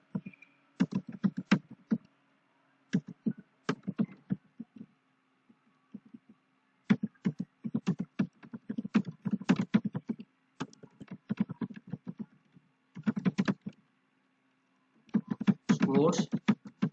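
Computer keyboard typing a reference into a Word document, bursts of quick, close key clicks separated by short pauses, with a faint steady hum underneath.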